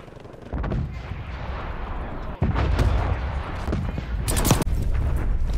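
An artillery strike pounds down in the video game Black Ops Cold War: a sustained barrage of rumbling booms and crackling blasts, with a sharp crack partway through and a burst of harsher explosions near the end.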